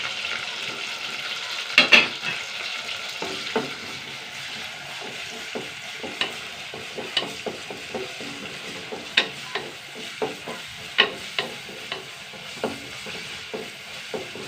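Garlic, shallots and green chillies sauté in a pan with a steady close sizzle, broken by irregular scraping stirs and a few louder clatters of the spoon.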